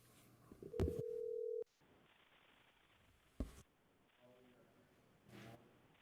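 A telephone call connects to a public board meeting with a steady tone lasting about a second, followed by brief clicks and faint line noise.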